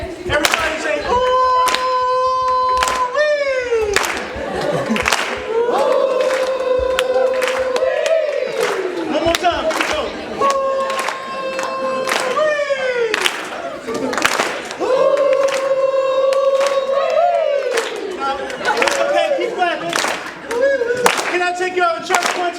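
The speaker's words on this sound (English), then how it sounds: "Come on now, clap your hands like this." A church audience at an Upward Bound event claps along in a steady rhythm, sharp hand claps repeating in regular bursts while a singer's voice and music carry over the beat.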